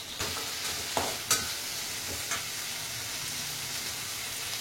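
Mint and coriander chutney ingredients sauté in a pan over a medium flame with a steady, close sizzle and a few sharp scrapes and taps from stirring.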